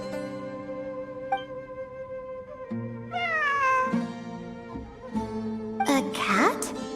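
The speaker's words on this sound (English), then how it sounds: "A cat?" A cat meows several times in Genshin Impact, with drawn-out, rising cries over steady game music and ambient tones. A louder, sharper yowl arrives near the end.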